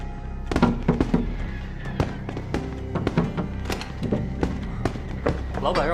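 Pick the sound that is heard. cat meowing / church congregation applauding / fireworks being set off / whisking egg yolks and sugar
fireworks being set off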